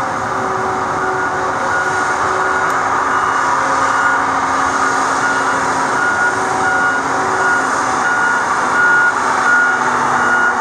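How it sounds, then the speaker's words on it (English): The engine cooling fan on a Tigercat LX830D track cutter roars in a loud, steady, close-up drone, with intermittent reversing beeps in the mix. "You hear that fan? That's the fan."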